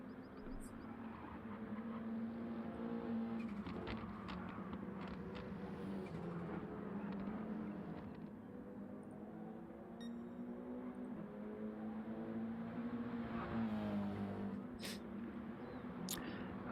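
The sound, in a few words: TT Cup race cars racing at Suzuka, from a video game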